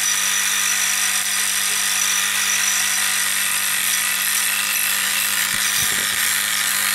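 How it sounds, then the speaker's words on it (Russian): An electro-spark hardening machine buzzes with a steady, loud electrical crackle as it deposits hard alloy onto a tool, a dense continuous sizzle with a low hum and a few faint knocks near the end. "уже искрение не то, которое было"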